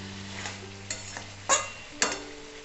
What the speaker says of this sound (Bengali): এবার আমি চিকেনে 1 কাপ জল দিয়ে দিচ্ছি। জল দিয়ে ভালোভাবে নাড়িয়ে নেব।